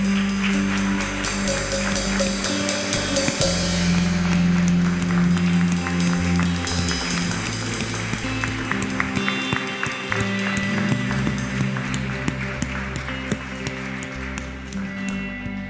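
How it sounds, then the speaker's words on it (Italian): A church congregation at a Sunday worship service clapping for the Lord, sustained applause mixed with ongoing music and a held organ or keyboard tone, crowd noise throughout. "puoi fare un grande applauso al nostro Signore"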